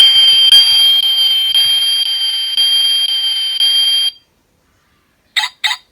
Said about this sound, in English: with alarm sound, so like that.